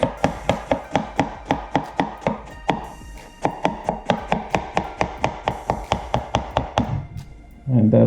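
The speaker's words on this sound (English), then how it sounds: "just take your apple, cut it into relatively small pieces" A knife chops an apple into small pieces on a cutting board, producing a steady run of crisp, evenly spaced knocks that pause briefly and then resume, close and loud with no talking.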